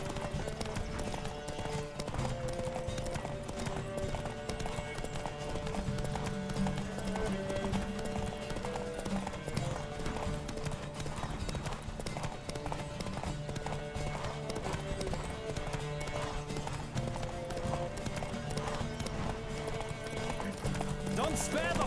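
A horse gallops in a race in The Witcher video game, rapid rhythmic hoofbeats pounding steadily under game music, with occasional neighs and character voices over the top.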